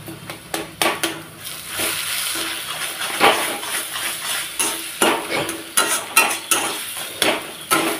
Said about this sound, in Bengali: গ্যাসটাকে বাড়িয়ে নিয়ে আমি ভালোভাবে এরকম করে ডিমটা সারা জায়গায় ছড়িয়ে ছড়িয়ে ভেজে নিচ্ছি